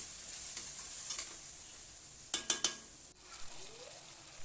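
Ridge gourd being stirred into cooked lentils in a pan: faint bubbling sizzle with a quick cluster of metallic spoon scrapes and clinks near the middle, then a softer scrape.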